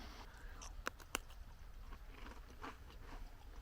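A few crisp crunches of someone biting a salty, mildly sweet cracker biscuit from a Czech tactical ration, two sharp bites followed by quieter chewing, close and fairly faint in a quiet room.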